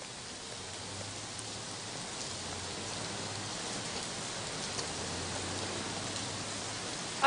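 Rain falls in a steady, dense hiss that holds even throughout, with a faint low hum beneath and a brief knock at the very end.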